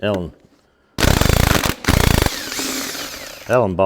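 A half-inch impact wrench rattles Allen bolts loose on a John Deere 2030 tractor: two loud close bursts of hammering, separated by a short gap, with someone speaking before and after.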